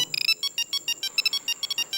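A mobile phone ringtone chiming nearby, a fast pattern of bright electronic beeping notes repeating rapidly for the full two seconds with nothing else audible.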